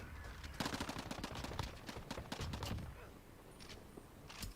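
Shotgun and submachine gun fire in a video game, a rapid close burst of sharp gunshots followed by scattered single shots and softer clatter, fairly loud, with a faint voice underneath.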